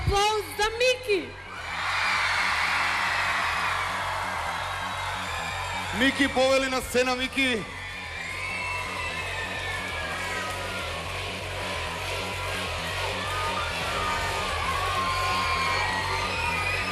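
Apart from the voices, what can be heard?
audience applauding and cheering for finalist Miki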